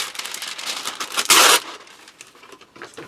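Close, loud crinkling and rustling of wax paper, with a sharp burst of tearing or crumpling in the middle, then softer handling sounds.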